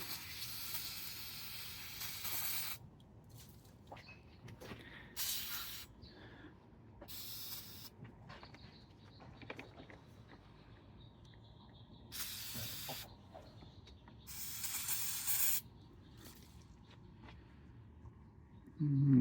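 Several bursts of hissing aerosol spray, each lasting one to three seconds, separated by pauses, with a faint low rumble between them.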